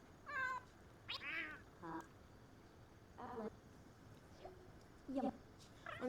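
A small kitten meows in a house, several short high mews spread irregularly across the stretch, faint and near, with quiet room noise between them.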